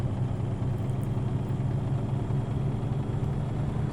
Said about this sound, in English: I love the sound of the truck though. It's a Lone Star International.